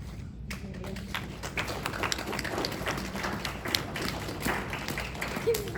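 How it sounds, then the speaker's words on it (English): At a memorial gathering, a young girl named Mia claps, soft scattered taps and claps mixed with room noise and faint voices in the background. "Mia's clapping."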